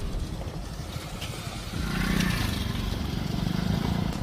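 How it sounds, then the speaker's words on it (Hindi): A motorcycle engine near Ghunghuta dam rumbles under a broad outdoor roar. It swells louder and holds a harder, throbbing revving tone from about midway to the end. "मोटरसाइकिल के एक्सीलेटर की ये तेज आवाज सुन रहे हैं आप?"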